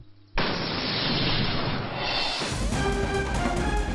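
A loud explosion erupts after a short quiet moment, a sustained roaring blast that then gives way to ringing, crackling debris.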